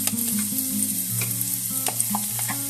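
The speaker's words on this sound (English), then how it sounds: "This is just to saute down our onions" Onions sauteing in extra virgin olive oil in a pan, a steady close sizzle with soft crackles, alongside a low tonal layer that sounds like background music, with no talking.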